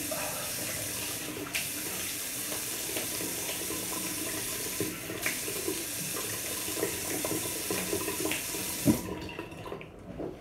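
Cold water runs steadily from a tap into a sink during rinsing after a traditional wet shave, a continuous broadband splashing rush with small clinks that stops abruptly near the end.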